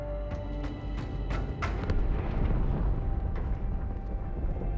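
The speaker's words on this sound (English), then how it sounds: "That explosion came from inside the Athens." A deep, rumbling explosion erupts inside the Athens starship in a Halo 2 Anniversary cutscene, swelling into a sustained roar after a few sharp bursts.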